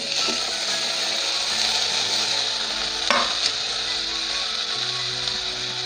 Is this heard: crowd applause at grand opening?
no